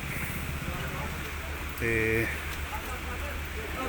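Light rain falls as a steady, even hiss outside a hospital gate where an evening langar meal is being served, with brief talk in between.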